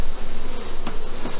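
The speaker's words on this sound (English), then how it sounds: "there's zillions of bees between every single one of these, so it's a healthy population" Honey bees buzz loudly and steadily inside an open hive, a dense close-up drone of many wings that holds without a break.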